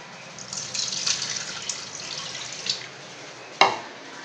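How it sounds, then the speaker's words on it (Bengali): Lentils (dal) for dalpuri being swished and rinsed in water in a kitchen, a steady close splashing and trickling with a sharper slosh near the end. "দুবার তিনবার ধুয়ে নিলেই এটা পরিষ্কার হয়ে যাবে ডালটা।"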